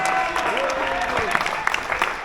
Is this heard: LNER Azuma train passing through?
no